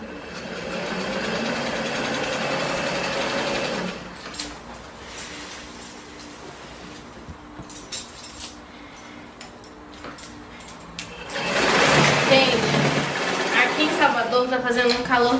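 A sewing machine stitches a double-folded skirt hem with a steady, fairly quiet motor whir, framed by someone talking before and after.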